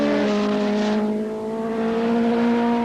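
Superbike racing motorcycles at Laguna Seca in 1979 roar past at close range, a loud sustained engine howl with steady harmonics and a slight pitch shift as the machines flick through the corners.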